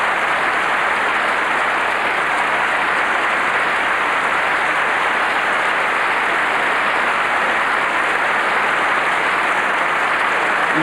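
A Wimbledon crowd at a 1982 ladies' singles semi-final applauds the players in a sustained, even roar of clapping that holds steady from start to finish, with no voices over it.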